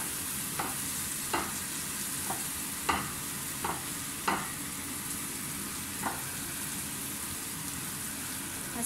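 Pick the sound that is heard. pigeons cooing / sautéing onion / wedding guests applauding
sautéing onion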